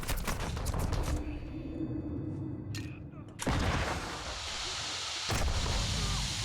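Gunfire from a single-shot gun in a multiplayer free-for-all video game: loud, booming shots and blasts close up, with a dense burst at the start and more heavy bangs later, and a voice heard briefly.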